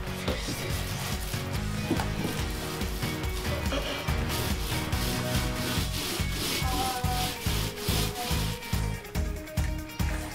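A paint roller rolls paint across the steel side of a shipping container with a steady, continuous rubbing rasp, pulsing in regular strokes toward the end, close and loud with little talk.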